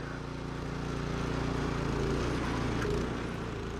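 A 2020 Troy-Bilt Storm Tracker 2690 XP snow blower drives forward in its fastest gear, its engine giving a steady, loud, continuous drone that swells slightly partway through with no pauses.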